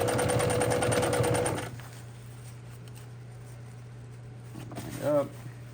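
A sewing machine runs fast and steady for under two seconds while stitching tent zipper material, then stops, leaving a low hum and a brief mechanical squeak near the end.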